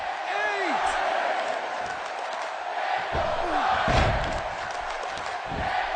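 An arena crowd in the WWE 2K17 wrestling game roars and chants continuously during a Daniel Bryan match, a dense wall of cheering under occasional thuds and a commentator's voice.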